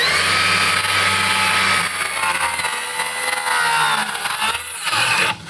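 A Makita 40V cordless saw rips steadily through wood, loud and close, with a sustained high whine that stays strong before the blade winds down at the end.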